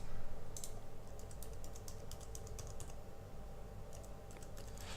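A password is typed on a computer keyboard in quick, irregular bursts of light clicking keystrokes, faint and close, over a low steady room hum.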